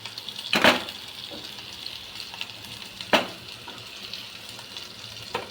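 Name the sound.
potatoes frying in oil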